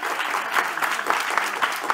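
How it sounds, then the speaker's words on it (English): Audience applause for the speakers at the close of a Tilburg panel discussion on artificial intelligence, a dense, steady wash of many hands clapping at close range for about two seconds. "a round of applause for our speakers who are accompanying us here today"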